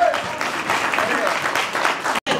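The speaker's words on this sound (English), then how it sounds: "give a round of applause, guys" Wedding guests clapping together in a steady, dense patter that fills the room, with voices mixed into the noise and a brief drop near the end before it resumes.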